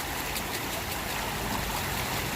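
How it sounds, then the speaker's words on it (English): Water pours and trickles steadily as dirt is rinsed off into a container of water during gold prospecting, a soft continuous wash with no talk. "Go ahead and rinse that all off into here."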